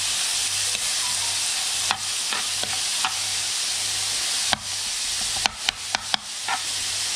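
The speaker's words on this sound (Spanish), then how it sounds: "En el primer lugar vamos a poner el morrón, la cebolla y vamos a dejar que se cocine" Bell pepper and onion sizzle in a pan while being stirred, cooked at a farm in Mendoza, Argentina. A steady, close frying hiss runs throughout, punctuated by several sharp clicks and taps of the utensil toward the end.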